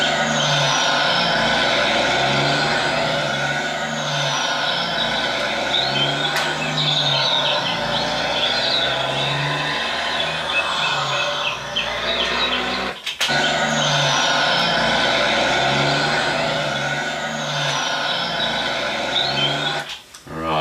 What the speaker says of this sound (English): This has a weird gear change there, so I might just shift the sound